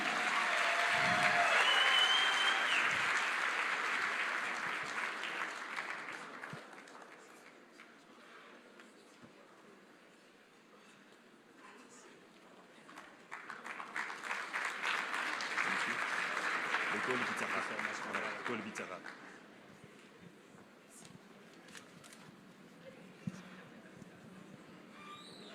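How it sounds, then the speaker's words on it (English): Applause at a team appreciation dinner for Botswana athletes, swelling loud at the start, easing off, then rising again in a second strong burst before fading, with talk heard between and beneath the clapping. "Another round of applause"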